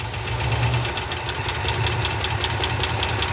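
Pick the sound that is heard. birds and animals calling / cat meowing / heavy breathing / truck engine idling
truck engine idling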